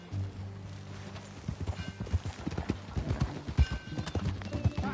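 Horse hooves clip-clop at a steady walking pace in the video game Red Dead Redemption 2, crisp and close, over a low hum of background ambience.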